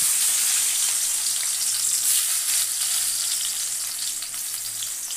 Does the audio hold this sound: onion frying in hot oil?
yes